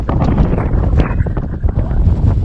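Heavy wind buffeting the microphone, a constant loud rumbling roar with gusty surges throughout.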